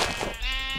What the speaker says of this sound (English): I'm surrounded by sheep. Hello there, sheep.